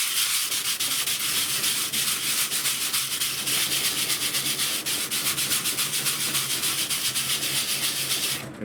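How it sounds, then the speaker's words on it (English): Close, rhythmic scratching of coarse sandpaper rubbed back and forth over a 3D printer bed, steady and continuous with no voices. "just give it a light sanding with the coarse coarse sandpaper"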